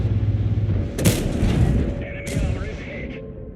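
Tank cannon fire in the World of Tanks video game, a sharp loud boom that rings out and decays, followed by a second fainter hit, over a steady engine rumble.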